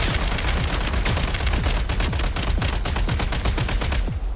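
Rapid automatic gunfire in Genshin Impact, a dense, loud burst of shots fired in quick succession for several seconds before cutting off.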